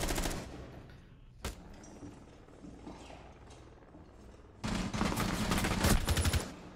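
Gunfire in the tactical shooter Rainbow Six Siege: a single sharp shot early on, then a dense, loud burst of rapid automatic fire in the final seconds over a low game background.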